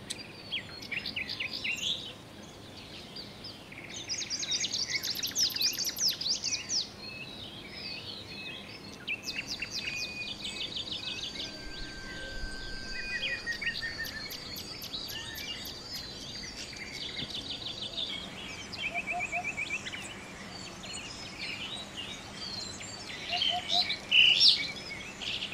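Forest birds sing in bright chirping phrases and trills that overlap and come and go, moderately distant over a soft insect hum, with no voices.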